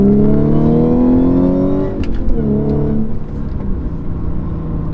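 Supercharged Audi S4 with an AWE exhaust revs hard on a downshift, a loud close engine note that sweeps up and settles into a steady burbling idle-like drone.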